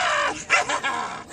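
A small dog barks and growls on command in Sausalito, giving a rapid, harsh string of close yaps and rough growly barks with no pause.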